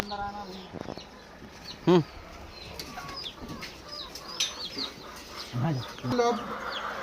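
Black Australorp chickens cluck and squawk in a busy coop, with a brief burst of wing flapping and scattered calls over a noisy background.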